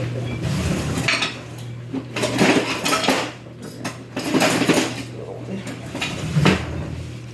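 Ingredients are stirred by hand in a bowl with a utensil, giving irregular scraping and clinking knocks at close range over a low steady hum, with no clear talk.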